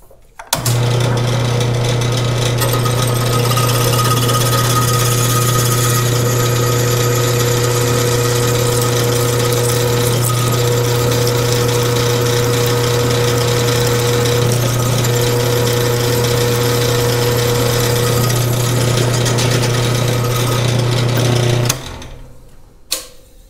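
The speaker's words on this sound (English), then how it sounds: "I've got the 17/64 extended bit loaded in the drill press. We're going to take it right on down through the cast and through the aluminum," A drill press with a 17/64 extended bit bores through cast iron and aluminum, giving a loud, steady motor hum with a constant whine that runs unbroken for over twenty seconds, then stops abruptly.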